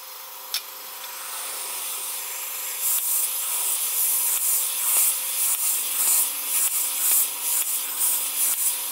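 A hand-built Stuart S50 model steam engine with a bare brass piston in its cylinder, run on compressed air, gives a steady hissing and rubbing sound with faint rhythmic pulses that build up after the first few seconds, close by.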